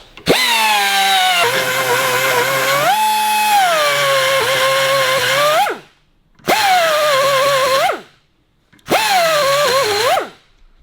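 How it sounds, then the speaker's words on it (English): A Dremel cuts through bronze kingpin bushes on a 1934 Buick with a loud, close, high-pitched grinding whine, first one long run with pitch dips under load, then two shorter bursts separated by brief silences. "just Dremel them through, break the back of them"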